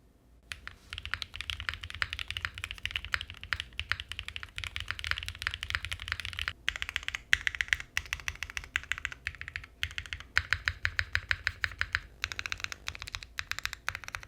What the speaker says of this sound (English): the silicone layer is definitely for you if you wanted a muted sound.